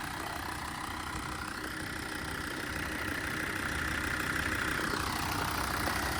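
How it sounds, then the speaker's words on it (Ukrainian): A 2014 Volvo V60 D4 five-cylinder diesel engine idles steadily with an even, low rumble, no voices, constant throughout. "Двигун просто муркоче, він працює просто ідеально."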